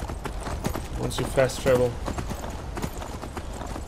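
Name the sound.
horse hooves clip-clopping in video game Skyrim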